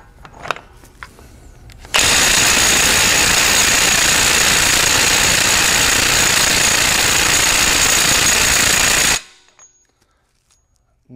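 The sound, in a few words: Ridgid cordless impact wrench on factory-torqued lug nut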